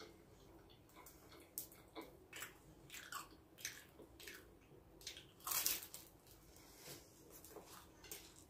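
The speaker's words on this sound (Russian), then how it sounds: "Вы слышите, как хрустит она." A large crunchy shawarma bitten and chewed up close, with soft crackly crunches and moist squishes in an irregular rhythm, one louder crunch midway, quiet throughout.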